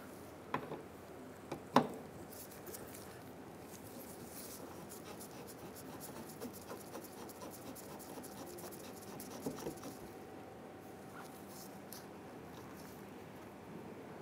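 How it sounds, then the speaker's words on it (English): A 10 mm nut comes off the rear wiper arm of a 2007-2015 Mazda CX-9, with quiet ratcheting clicks and small metallic ticks, a couple of sharper taps early, all faint and close. "remove our 10 millimeter nut holding on our wiper arm"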